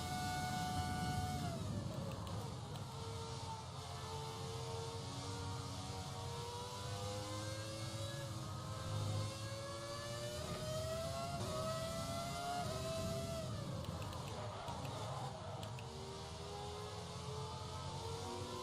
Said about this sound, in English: Ah, the old V10. This is V10, isn't it?